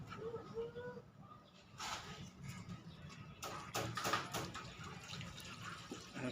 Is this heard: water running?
yes